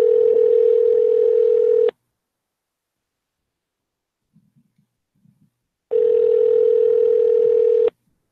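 A telephone ringback tone on an unanswered call: two long, loud, steady rings about four seconds apart, separated by silence and a few faint clicks.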